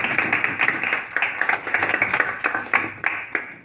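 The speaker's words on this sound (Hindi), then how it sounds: "बजाओ तालियां।" Students in a classroom clap together after a lesson, a quick run of sharp, uneven hand claps, close and fairly loud, with no talking over them.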